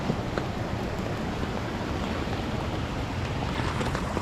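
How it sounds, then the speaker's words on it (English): Forest river running beneath tree roots and moss, a steady broadband rushing of water that stays constant throughout with no talking over it. "Cool river."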